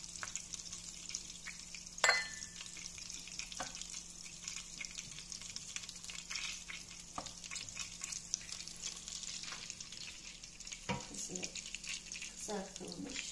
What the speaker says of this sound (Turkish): Kızartılmış pul biberimizden de üzerine çoslatıyoruz.